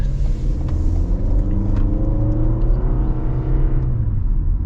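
A 2025 Toyota RAV4 LE accelerating, its engine a steady loud rumble and whir with a gentle rising note, heard from inside the car, no voices.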